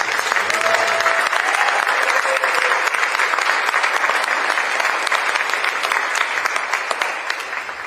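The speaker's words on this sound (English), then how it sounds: "can we give a huge round of applause for Kumu?" Sustained applause from an audience at a mayoral proclamation ceremony honoring a Hawaiian hālau, steady and dense throughout with faint crowd murmur beneath, tapering slightly at the end.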